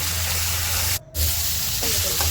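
Chopped onion frying in a pan with turmeric and salt, a steady close hiss of sizzling oil with a brief dip, no talk over it.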